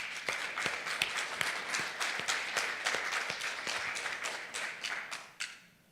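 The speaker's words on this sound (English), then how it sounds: "I think you should deserve some applause." A small audience at a Halifax gathering claps, with distinct individual hand claps audible within the sparse applause, fairly faint and fading away near the end.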